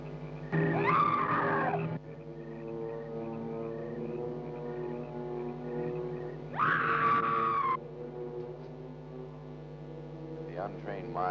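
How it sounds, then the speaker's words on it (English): A ghostly woman's scream from a 1957 horror film rises twice, each a shrill, wavering wail lasting over a second, over a low droning eerie background hum, with a fainter cry near the end. "it is the scream of the white ghost"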